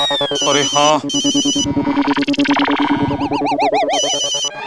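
A phone ringtone plays loudly in a busy setting inside a parked auto-rickshaw, its electronic melody repeating in short bursts while someone speaks over and around it.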